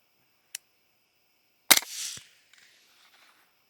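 Rifle fired at an animal: a faint sharp crack, then a louder, close shot about a second later with a brief ringing tail, in otherwise quiet surroundings.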